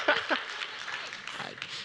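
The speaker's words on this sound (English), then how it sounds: "give Allison a round of applause" An audience claps in a short burst of applause at an on-stage event, mixed with cheering voices and a few whoops.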